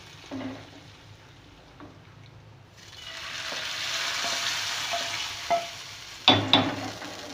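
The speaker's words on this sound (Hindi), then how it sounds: "अब मैं ये बघार कर रही हूँ" A baghar tempering for arhar dal sizzles in a pan, starting with a few stirring knocks before a loud, sustained hiss rises and holds, with sharp clatters of a spoon near the end and no talking.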